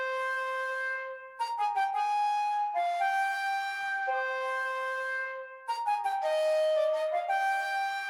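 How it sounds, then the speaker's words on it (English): Sampled Renaissance flute from the Cinesamples Cine Winds library plays a programmed melody, with sustained long notes broken by short, stabby staccato bursts, clean and solo with no voices. "I went with the Renaissance flute right here and I made this pattern with it."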